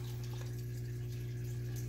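An automatic aquarium control system's pump runs with a steady, low, continuous mechanical hum, faint and unchanging, with no voices.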